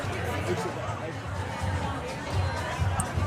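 Steady crowd babble at Hamden Fest, an outdoor community festival, with many overlapping voices forming a continuous murmur and low rumble throughout.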